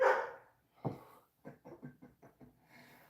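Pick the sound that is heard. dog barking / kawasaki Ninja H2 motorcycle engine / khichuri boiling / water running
dog barking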